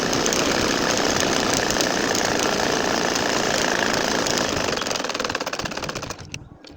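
A domestic sewing machine stitching a nakshi kantha quilt runs in a steady, loud, continuous buzz of rapid needle strokes, winding down and stopping near the end.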